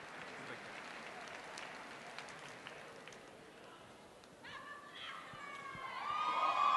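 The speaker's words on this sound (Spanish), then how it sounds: "Fuerte el aplauso para ella." Faint, distant applause from an audience at a cultural dance event, a soft continuous patter of clapping with some cheering, swelling louder toward the end.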